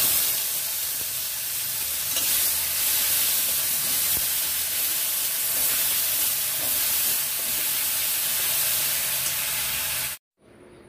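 Five-spice seeds with ginger, onion, garlic and chili paste fry in hot oil, a loud, steady sizzle and crackle that runs without pause before cutting off abruptly at the end.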